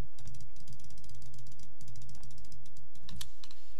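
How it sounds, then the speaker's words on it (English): Keyboard typing and clicking off to one side of a USB-C condenser microphone, a rapid continuous patter of sharp key clacks over a steady low background hum. "let's see how this sounds if I try to like type with it off to the side"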